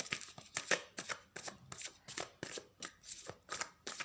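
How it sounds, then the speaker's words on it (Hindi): Tarot cards shuffled by hand close up, a quiet run of regular riffling flutters and soft slaps repeating about twice a second. "मैं I would like to reshuffle."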